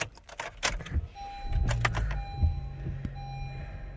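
A 2019 Honda CR-V LX starts up nearby, with a few sharp clicks and a short cranking burst, then a steady low idle hum with a faint tonal whine.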